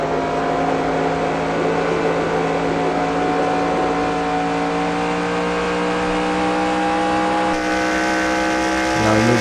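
A Craftsman race truck engine roars continuously at high revs on an onboard lap around Iowa in the NR2003 racing game, loud and steady with a slight pitch shift near the end.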